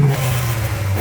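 Exhaust of a 2023 Haval H6 GT SUV in race mode, a steady loud low engine drone with slight revving through the whole second, no talk.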